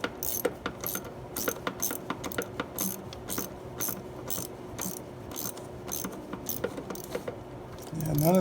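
A ratchet clicks in quick, repeated strokes close by while tightening a hose clamp on an oil catch can in a Jeep Wrangler 3.6 JK engine bay, with brief pauses between bursts and no talk.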